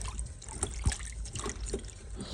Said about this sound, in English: I'm going to submerge it into the water